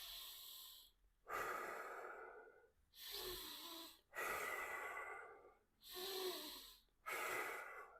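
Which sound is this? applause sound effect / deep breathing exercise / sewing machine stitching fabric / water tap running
deep breathing exercise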